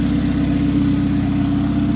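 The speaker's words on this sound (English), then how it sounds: "Idling perfect, and it's on E85." A 600-horsepower turbocharged engine in a 1992 Honda Civic EG hatchback running on E85 idles steadily nearby, a smooth low throbbing rumble with an even pulsing rhythm and no change in speed.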